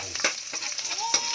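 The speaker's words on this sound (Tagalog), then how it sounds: "Maglalagay tayo ng mantika sa kawali" Garlic sizzles in hot oil in a pan with steady close frying crackle, broken by a few louder stirring scrapes, while burong isda is being prepared Kapampangan style.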